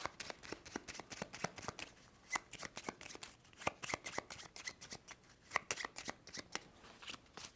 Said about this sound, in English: Shuffling these up.